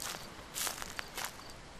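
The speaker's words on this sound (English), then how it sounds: "Parsec Productions presents The Sound of Footsteps." Footsteps in the horror game Slender: a few soft, uneven steps crunching over ground, close but fairly quiet against a low background hiss, with no talking.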